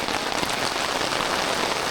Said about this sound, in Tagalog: Ito yung ulan eh.